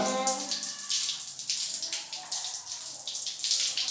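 Water running steadily from a household tap, a continuous close hiss and splash with slight fluctuations throughout.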